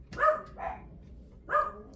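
Dogs indoors bark in two short, separate bursts about a second apart, moderately loud with a softer yip between them.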